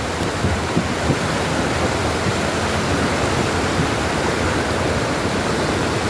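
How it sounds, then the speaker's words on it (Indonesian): Flash flood water rushing over a bridge at Koto Tuo, Agam, a loud, steady roar of torrential flow with no break. "Itu air di atas jembatan"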